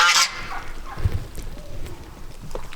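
Geese honking in a farmyard pen, a burst of loud honks at the start followed by scattered lower calls and shuffling noises nearby.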